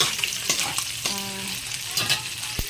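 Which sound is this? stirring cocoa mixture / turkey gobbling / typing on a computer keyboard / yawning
stirring cocoa mixture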